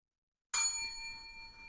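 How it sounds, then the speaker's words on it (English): A small bell gives a single sharp ding, bright and metallic, then rings on with a fading shimmer in an otherwise quiet room. "Oh, go ahead and ring a bell."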